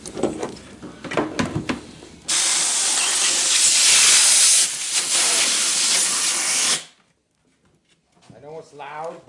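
Compressed air blasting to free a quarter-scale clear cast prototype body of a 1953 pickup truck from its mold, a loud steady hiss of about four seconds that then cuts off, with talk before and after.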